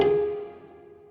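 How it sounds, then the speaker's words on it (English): Prepared piano recording of a main melody: a single struck tone with a bright attack that decays slowly over about a second, close and moderately quiet, alone. "It's the piano recording itself."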